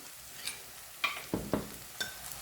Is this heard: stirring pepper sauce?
yes